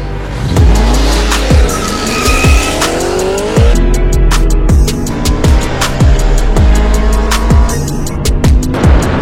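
BMW M3 and Lexus IS F, both V8 cars, racing hard with loud engine roar, repeated sharp tire squeals and skids throughout, close and continuous.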